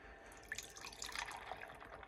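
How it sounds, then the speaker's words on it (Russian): Milk poured from the fridge carton into a cup, a quiet bubbling, trickling liquid sound with small splashes, faint and close with no speech. "Вот так вот наливаем целую чашку такую."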